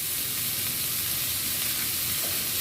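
Ingredients for a vegetarian jackfruit seed and malabar spinach curry fry with spices in a pan, making a dense, continuous, close-up sizzle that holds loud and even throughout.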